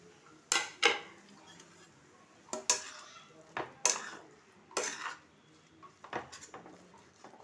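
Prawn paste and mustard paste being mixed together, a run of distinct scraping and clinking strokes of a utensil against a dish, close and irregular with quiet pauses between.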